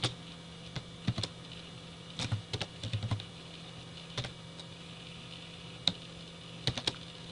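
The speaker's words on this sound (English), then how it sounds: "I'm going to go ahead and open Notepad and we're going to type some commands." Typing on a computer keyboard while entering commands into Notepad: irregular clusters of close, crisp key clicks with pauses between bursts, over a faint steady room hum.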